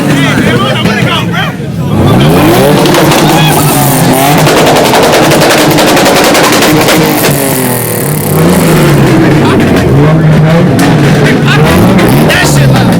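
Car engines rev loudly and repeatedly at a Cobb County car meet with burnouts, sweeping pitch rises and falls close by, while a crowd chatters and shouts underneath.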